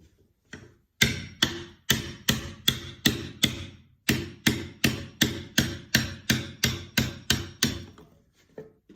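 A paint scraper is pushed across a drill press table insert in a home woodworking shop, giving about twenty sharp, evenly spaced scraping strokes that sound near and loud, with no talking.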